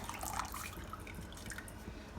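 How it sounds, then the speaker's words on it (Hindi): Vinegar water pours and trickles steadily into a pot of hot milk, a soft continuous splashing with faint dripping, close by and uninterrupted. "तो सिरके वाला हमने पानी बनाया था वो इसमें डाल देंगे।"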